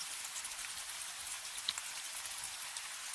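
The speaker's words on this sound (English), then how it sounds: "the rain started to really pound heavily on the station roof" Rain drums on a ranger station roof, a steady, dense hiss of drops with occasional sharper ticks, moderately loud and unbroken, with no voices.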